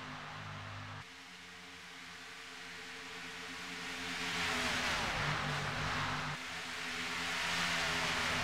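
Race cars in a video game at Monza roar past at very high speed, a steady engine drone swelling into a loud rushing pass-by, alone without talk.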